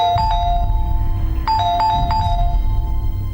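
Doorbell ringing in a home: a bright electronic chime plays two quick descending ding-dong tones, pauses briefly, then rings again in a short run of notes, clear and close.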